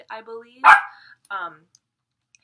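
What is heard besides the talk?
dog barking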